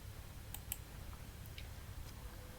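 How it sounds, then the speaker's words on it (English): Faint computer mouse clicks while working in the PyCharm debugger: a quick pair of crisp clicks near the start, then a few softer ticks, all quiet against a low room hum. "Let's click on that."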